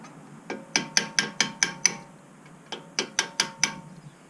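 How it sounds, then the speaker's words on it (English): Two bursts of sharp metallic taps, about six then five quick evenly spaced strikes of a small hammer on a drift punch knocking out Brembo front brake pad pins on a BMW F30 335, close and alone. "Use a little drift punch like this one, a small little hammer"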